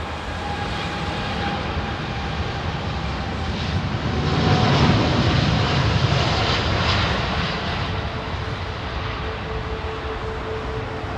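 A BOAC Boeing 747 jet airliner takes off at full power from Heathrow runway 27R. The heavy engine roar is heard from a distance, swelling to a peak midway and then easing off.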